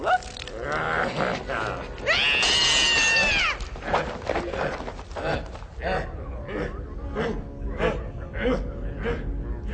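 A castle cat in a French animated fantasy film gives a drawn-out, rising and falling meow amid animated voices talking over busy background sound.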